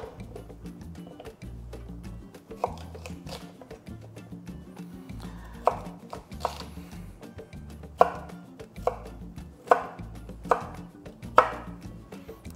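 Knife chopping cassava (balinghoy) into cubes on a board: scattered sharp taps, sparse at first, then a steadier run of crisp individual strikes, close and moderately loud over faint background hum.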